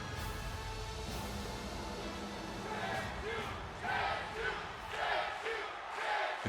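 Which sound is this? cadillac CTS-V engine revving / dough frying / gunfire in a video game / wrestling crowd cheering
wrestling crowd cheering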